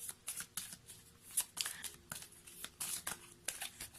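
A deck of angel oracle cards is shuffled by hand, giving soft, quick riffling and papery flutters in uneven bursts, close and fairly quiet.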